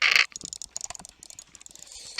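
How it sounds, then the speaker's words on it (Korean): Rapid, light plastic clicks of a computer mouse patter in irregular bursts during Minecraft play, close up and fairly quiet, with no voices. "마우스 소리"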